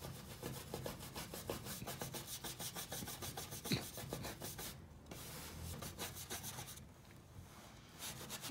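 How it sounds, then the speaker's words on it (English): A brush works clear wax into a wooden sample board during furniture glazing, a steady rhythmic scrubbing and rubbing of bristles over wood that carries on close and continuously throughout. "I'm just gonna get that wax worked in."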